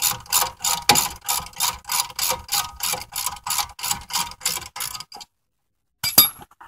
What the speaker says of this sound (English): now I'll just finish taking this top bolt off